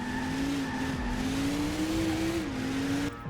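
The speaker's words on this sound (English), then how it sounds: "To power slide, hold left trigger to brake/power slide." A car power slides in Transformers: Revenge of the Fallen, its engine droning steadily with a rising, wavering tone as tires squeal through the skid for about three seconds before cutting off abruptly.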